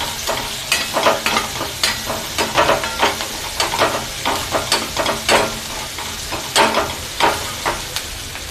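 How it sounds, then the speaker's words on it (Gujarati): Onions sizzle steadily in a hot pan on a gas stove, frying until brown, while a spoon scrapes and stirs in regular strokes, close and fairly loud, with no talking. "કાંદા એકદમ બ્રાઉન કલરના થઈ જાય ત્યાં સુધી આપણે પાકવા દેશું"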